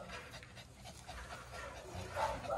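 A mutt dog pants close by in quick, steady breaths that continue throughout, with no talk.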